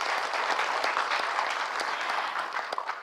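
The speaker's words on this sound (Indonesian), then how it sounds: "Mohon tepuk tangan untuk mereka semua." An audience at a doctoral promotion ceremony applauds in a continuous, even wash of clapping for about three seconds, moderately quiet and steady, with no talking over it.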